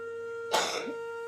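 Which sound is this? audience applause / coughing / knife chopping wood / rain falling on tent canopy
coughing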